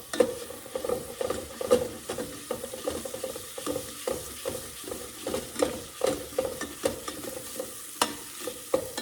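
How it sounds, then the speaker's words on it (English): Chili seasoning being stirred into chili in a pot, with repeated scraping and clinking strokes in a steady rhythm and a faint sizzle underneath, close by and with no talking. "And I'm going to mix that up really well, just like this"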